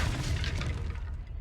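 A Confringo fire spell blast in Hogwarts Legacy, set in a market during a troll fight: a loud, dense explosive boom with heavy low rumble that rings out and slowly fades over about a second and a half.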